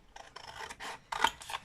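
Scissors cutting a paper coffee filter, giving several close, crisp snipping and rasping strokes in quick succession.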